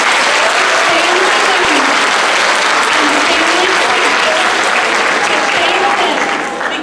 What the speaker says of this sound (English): I ask that every graduate give a round of applause to their parents, grandparents, older siblings, family